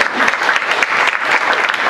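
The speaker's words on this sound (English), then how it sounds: "they deserve a round of applause." Audience applause at a breakfast meeting of a business association, steady dense clapping from a room of people filling the whole moment without pause.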